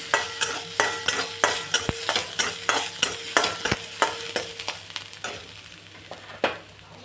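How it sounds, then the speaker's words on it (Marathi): Onion frying in a pan for masale bhat, with rhythmic spatula scrapes and stirring strokes over a steady sizzle, close and fairly loud throughout. "मस्त कांदा फ्राय झालेला."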